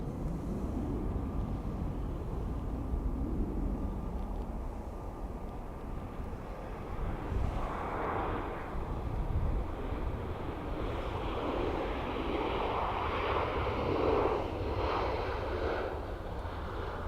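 An aircraft flies low over the motorway near Dublin Airport, its engines a long, rolling roar that swells and eddies as if through a wind tunnel, with a steady wash of wind noise underneath.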